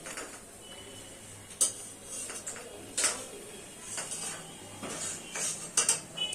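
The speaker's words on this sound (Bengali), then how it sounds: "সয়াবিনগুলো আমি একটু লাল লাল করে ভেজে নিয়ে তুলে নিচ্ছি" Fried soya chunks are lifted out of a pan for dalma with a utensil, a run of light metallic clinks and scrapes at uneven intervals over a faint low hum, without any voices.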